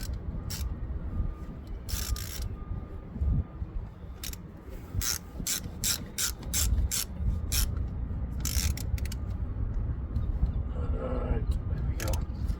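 A bolt being refitted during a roadside car repair, heard as rapid bursts of ratchet clicking, close and crisp, over continuous outdoor rumble with a person talking at times.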